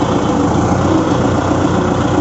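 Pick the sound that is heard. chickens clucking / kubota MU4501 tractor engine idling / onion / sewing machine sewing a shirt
kubota MU4501 tractor engine idling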